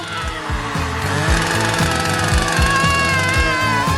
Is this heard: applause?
no